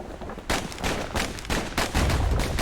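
Several rapid, loud slinger pistol shots from the video game Bastion, fired in quick succession as a close, punchy burst with no talk over them.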